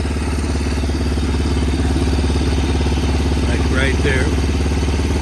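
A 1965 Honda CL77 motorcycle engine idles steadily throughout, slightly high, a continuous low rumble with faint clatter, while a person speaks briefly over it.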